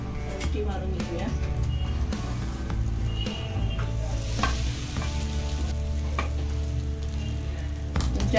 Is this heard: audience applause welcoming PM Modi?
no